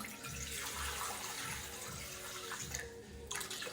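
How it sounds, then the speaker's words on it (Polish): Water pours in a steady stream into a Thermomix bowl for making dandelion honey, a continuous close splashing that changes briefly near the end, with no talking. "Najpierw wlewamy wody 750 gram."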